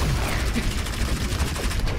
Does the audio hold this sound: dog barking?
no